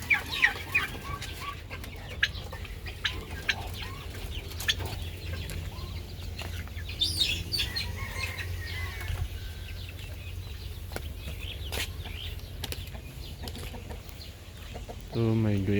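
Chickens cluck and squawk around a farmyard, scattered calls near and far over a steady outdoor background.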